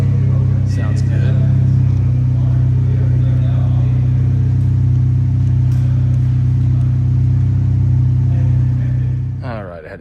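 A 2018 Fiat 124 Spider Classica with a six-speed manual idles steadily, its exhaust giving a deep constant hum heard close from behind the car for about nine seconds before it cuts off, with a few faint background noises.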